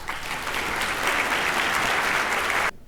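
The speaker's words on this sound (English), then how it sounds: "Please give him a round of applause." An audience at a New Orleans business alliance annual meeting gives sustained, loud applause that stays dense for nearly three seconds, then cuts off abruptly.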